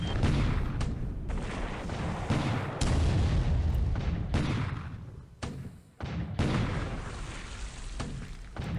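Gunfire and explosions from a WWII naval strategy video game. Heavy booming blasts come in dense, sustained bursts with brief drops between them, loud and close, with no talking.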